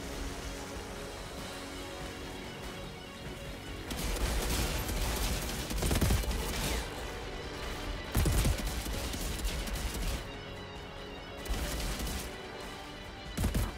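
Repeated shotgun blasts in the video game Outriders crash out over a dense, noisy combat backdrop, with several sharp bangs spaced through the scene.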